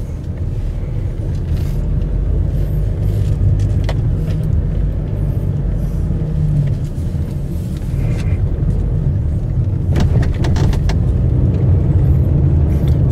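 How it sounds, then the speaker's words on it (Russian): Cars hurry along a narrow single-lane village street in Belbek, a steady close engine and tyre rumble, with louder passes swelling near the end and no speech. "Вот машины несутся."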